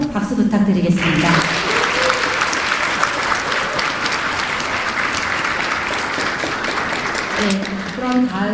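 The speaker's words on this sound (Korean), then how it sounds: "교수님께 다시 한번 박수 부탁드리겠습니다." Sustained audience applause for a professor after a lecture, a dense steady wash of clapping lasting several seconds, with a voice speaking briefly at the start and end.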